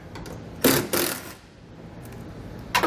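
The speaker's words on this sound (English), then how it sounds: "We're going to have two fasteners. They're going to be both 8mm head screws. Get those pulled out." Ratcheting bursts from a tool backing out 8mm head screws in a truck's taillight pocket, a close mechanical whir in two short runs with a brief third at the end.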